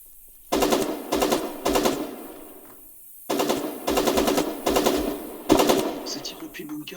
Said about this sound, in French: Ça tire depuis le bunker, non?